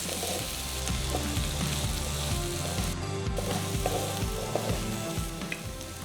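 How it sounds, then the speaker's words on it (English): Shallots sizzle over high flame in a pan for crab masala, a loud continuous frying hiss with steady crackle, close and unbroken, with no voices. "Saute at high flame for 2 minutes."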